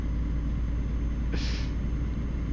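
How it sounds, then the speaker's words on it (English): A truck engine in the video game Euro Truck Simulator drones with a steady low rumble throughout, with a brief brighter hiss rising over it midway. "My truck sounds so sick right now."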